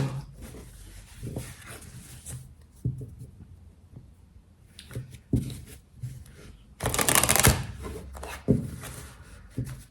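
Tarot cards being shuffled by hand, a run of soft riffling and rubbing bursts with one louder, longer riffle near the end, close and without talk.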